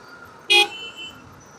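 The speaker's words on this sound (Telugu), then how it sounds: "ఇక్కడ అవుటర్ రింగ్ రోడ్ దగ్గర చూడండి ట్రాఫిక్ జాము వేరే లెవెల్ అవుతుంది" A single short car horn toot cuts through a low traffic hum during a jam near Outer Ring Road, heard from a bicycle.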